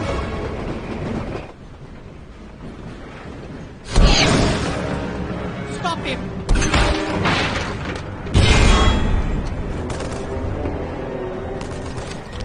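A gunfight breaks out aboard a moving train in Captain America: The First Avenger, with loud booming impacts and crashing bursts rising out of a steady, dense rumble of cinematic sound.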